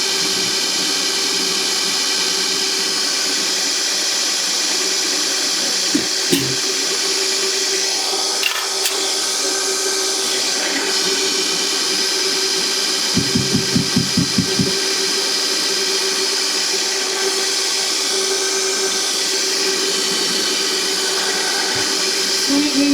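An Ooni Halo Pro spiral stand mixer running at full speed whisks cream with a steady, continuous motor whir. A few brief clicks and knocks break in partway through, and no one speaks.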